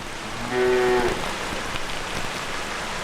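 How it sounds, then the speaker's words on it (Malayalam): Steady rain falls in a wash of close, even patter with a brief tonal hum rising over it early on, and no voices. "മഴ വന്നു, വാ വീട്ടിൽ പോവാം"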